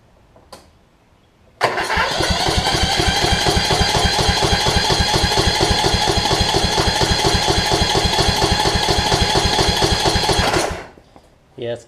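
A Kohler Courage engine on a Toro Z5000 zero-turn mower, suffering back pressure from a tight intake valve, bursts into a loud, rapid, rattling run for about nine seconds, then cuts off abruptly and winds down.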